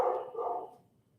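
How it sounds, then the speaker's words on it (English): A dog indoors gives one short muffled bark, faint and quickly fading out, with no talk over it. "obviously my dog is going crazy"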